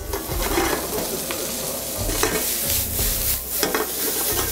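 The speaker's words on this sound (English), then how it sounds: "sauteing your peppers and onions because you're gonna add a bunch of fat with this" Julienned peppers and onions sauté in a hot pan, a steady close sizzle broken by repeated scraping stirs, with no one talking.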